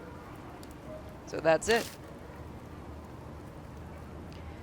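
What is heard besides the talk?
rain falling on street in video game Spirit Hunter: Death Mark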